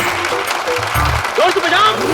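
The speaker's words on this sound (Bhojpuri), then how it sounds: "तालियां, तालियां, तालियां।" Applause at a village panchayat gathering greeting a guest, a dense patter of clapping mixed with voices and background noise, brief and fairly close.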